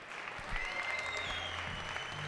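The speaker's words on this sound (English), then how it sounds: "Let's make some noise for Brock" An audience applauds and cheers at a bootcamp event, a dense, steady wash of clapping with a few whoops mixed in, heard throughout.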